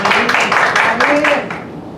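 Brief, evenly spaced claps from an audience at a public hearing on a climate action plan, fairly close, with a voice over them before they fade out.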